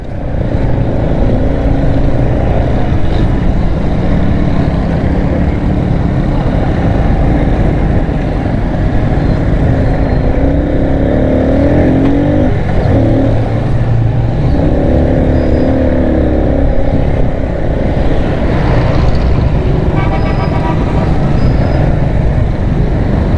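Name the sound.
road traffic jam with cars and motorcycles in Pakistan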